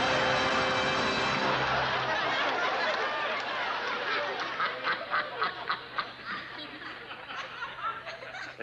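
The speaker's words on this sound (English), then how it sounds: "We're going to have to prove to you that Webster is a death-defying duck." A duck quacks during a stage magic show, its nasal calls loud and close at the start, then fading into a string of short bursts under audience laughter and chuckling.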